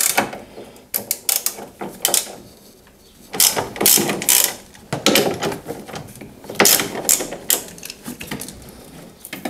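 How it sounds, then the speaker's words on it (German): Ratchet with a 13 mm socket loosening the strut brace bolts on a BMW M2 Competition, a series of quick clicking bursts with pauses between them, close up and without speech. "ich habe jetzt hier schon mal die Ratsche rausgeholt. Wir brauchen hier eine 13er Nuss."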